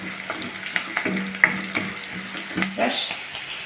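Onions and tempering spices frying in a pan for a prawn and gongura curry: a steady low sizzle broken by light spatula clicks and scrapes at irregular intervals, heard up close.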